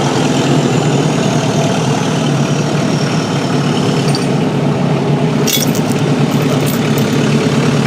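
A Kubota tractor engine idles steadily and loudly up close, a continuous low rumble with a brief clank midway, and no one speaks.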